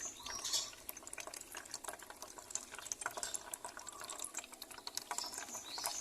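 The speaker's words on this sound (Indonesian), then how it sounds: "Dalam hal ini, airnya itu menembus pada lubang-lubang kecil." Water seeps and trickles through small holes, a faint continuous gurgling with scattered drips and splashes, close by with no voices.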